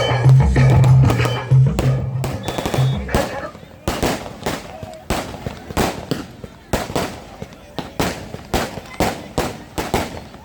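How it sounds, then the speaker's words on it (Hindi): A voice is heard briefly at first, then a long run of sharp firecracker bangs pops and crackles in quick irregular bursts at an outdoor girls' kabaddi match. "जिन्होंने इस कार्यक्रम में रंगारंग पटाखे की बरसात कर दी है"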